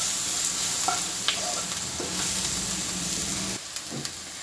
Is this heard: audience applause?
no